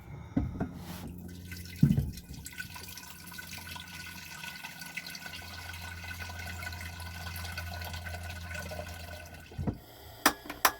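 Tap water runs steadily from a faucet while a tiny house is washed down after a fire, a continuous low rush with a few louder splashes and clunks near the start and end.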